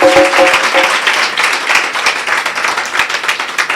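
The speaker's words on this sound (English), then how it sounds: "Please give her a warm round of applause." Audience applause at an African Women in Media Awards ceremony, a dense, sustained wash of clapping from many hands, steady and fairly loud throughout.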